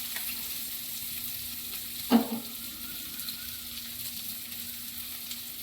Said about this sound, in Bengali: এবার পেঁয়াজ রসুন কুচিটা একটু আমি ভেজে নেব